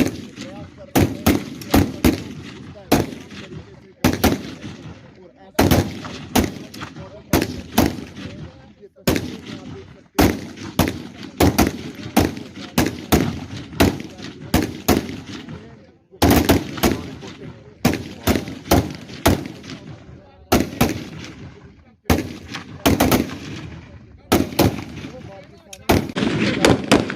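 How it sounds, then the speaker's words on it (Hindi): Gunfire from Indian soldiers at a border post rings out in loud, sharp volleys, repeated rapid shots in bursts with short gaps, close and echoing, continuing throughout. "आप सुन सकते हैं इन गोलियों की आवाज़।"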